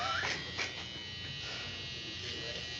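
Electric clippers trimming around a beard near the top of the nose, a close steady buzz that dips and returns as the blade moves.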